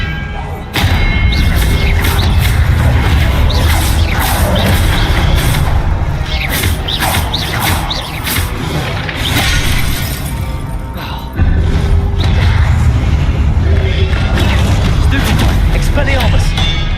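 Hogwarts Legacy video game spell combat with Expelliarmus casts amid loud, dense bursts of crashing, booming impacts and shattering effects, continuous and near, with a voice shouting over the action.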